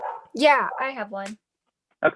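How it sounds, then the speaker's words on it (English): A neighbour's dogs bark and whine repeatedly in the background during an online student government meeting, with yelps rising and falling while a person speaks briefly over them. "I'm sorry if you can hear the dogs barking in the back"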